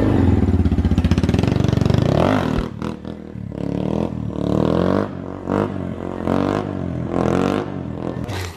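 A Honda Grom motorcycle revs with a buzzy, loud engine drone, then cuts into a series of choppy bursts and pauses as it rides off, close to the microphone.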